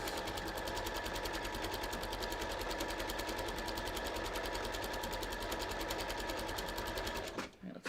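An embroidery machine stitches candle wicking patterns onto jeans, a steady rapid mechanical whirring and needle chatter running loud and continuous before stopping abruptly near the end.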